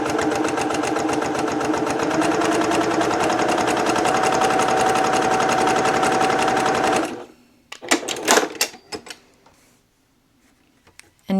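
A sewing machine runs steadily while stitching fabric for a boxy makeup bag, a fast close mechanical whir for about seven seconds that then stops, followed by a few clicks and handling noises before brief quiet.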